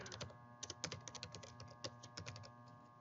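Quick bursts of typing on a computer keyboard, with irregular clicks clustered in short runs, close and fairly quiet, with no talking over them.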